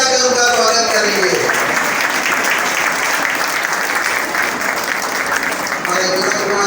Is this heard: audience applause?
yes